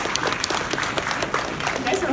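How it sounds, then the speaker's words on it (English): A convention panel audience at a comic fest applauds politely, a crowd of scattered claps filling the room at moderate volume with some voices mixed underneath. "just clapping at everyone's questions and answers"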